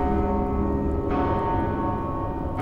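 A bell rung by a chained creature pulling on it in the Mortal Shell video game, a sustained ringing tone with dense overtones filling the whole clip at steady volume, with a brighter strike near the middle.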